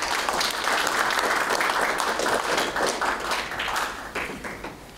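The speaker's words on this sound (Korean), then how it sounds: "박수로 반주해 주시기 바랍니다." Audience applause fills a Korean academic conference hall marking the centenary of the declaration of independence war, a dense, steady wash of many hands clapping for the full length before tapering slightly at the end.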